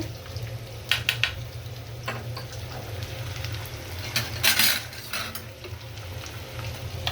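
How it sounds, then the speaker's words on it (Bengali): Beef khichuri cooking in a pot as cardamom powder and shahi masala are stirred through, with a steady low sizzle and a few louder scraping bursts from the spoon against the pot, no talking. "একটু নেড়ে চেড়ে দিচ্ছি মশলাটা দিয়ে।"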